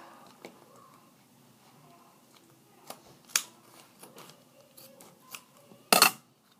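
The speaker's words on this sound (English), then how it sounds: "Then I'm going to trim off any extra." Scissors snip off excess duct tape on a tri-fold wallet, with a few scattered close cuts and one louder final snip amid quiet handling.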